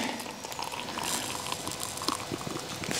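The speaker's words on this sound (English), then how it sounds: "Fill that right up with water." Water pours into a square titanium cook pot, a steady close splashing and trickling that runs continuously for about three seconds with slight swells in level.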